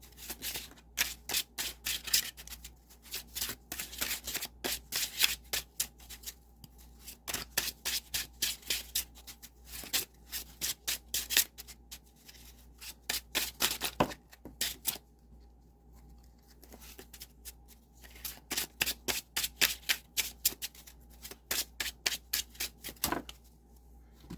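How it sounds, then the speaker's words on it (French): Tarot cards are shuffled close by in quick riffling bursts of rapid flicks, repeating in several rounds with short pauses between, with no speech. "Beaucoup trop de cartes qui tombent."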